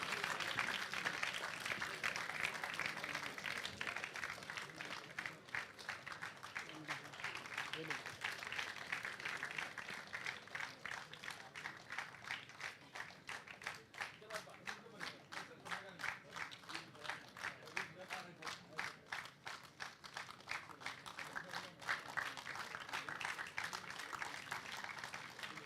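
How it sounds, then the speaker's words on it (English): An audience at an international documentary film festival applauds the filmmakers, steady dense clapping sustained for a long stretch, heard at moderate distance without talk over it. "Ladies and gentlemen, please give a round of applause to the filmmakers."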